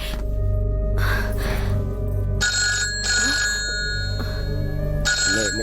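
A telephone rings in repeated bursts, loud and close, over a steady low hum, with short gaps between the rings.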